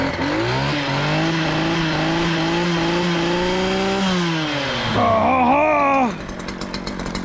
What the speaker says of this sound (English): when I'm out here weed whacking, bush cutting, strimming